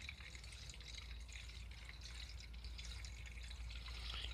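Petrol pours steadily into the tank of a Rover Turbo Thrust lawn mower, a continuous soft liquid gush with faint trickling, low and close, with no talking over it.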